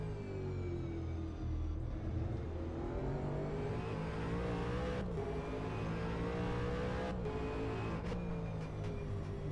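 V8 race cars roar around the Townsville street circuit in a sim racing game, a loud, sustained engine howl whose pitch rises and falls through the corners, broken by brief dips at gear changes.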